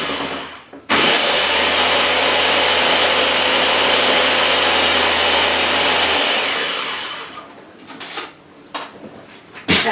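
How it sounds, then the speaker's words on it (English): A blender whirs loudly and steadily for about six seconds blending gravy, then stops, followed by a few clinks and clatters. "All right, so I'm just going to blend."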